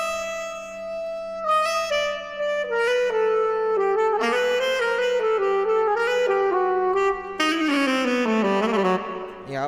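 Saxophone solo, auto-tuned and drenched in stock reverb, playing a flowing melodic line over sustained low tones, loud and continuous with long washy tails.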